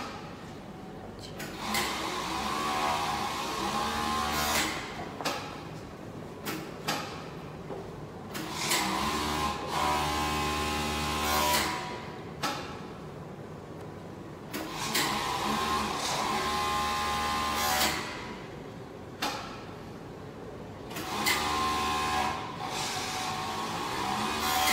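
A C5 quick-adjustable overlock sewing machine stitches fabric in repeated bursts of fast whirring motor hum and rattling needle action, each run lasting a few seconds and separated by short pauses, close and fairly loud.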